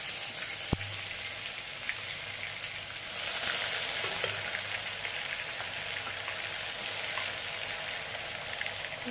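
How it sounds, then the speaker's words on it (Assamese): Onion paste is added bit by bit to fully heated oil, setting up a continuous close sizzle and crackle that swells briefly after a sharp click near the start, with no talking. "আৰু ইয়াত দি দিম এতিয়া পিঁয়াজ, লাহে লাহেকৈ দিম কাৰণ পূৰা তেলটো পূৰা গৰম হৈ গ'ল।"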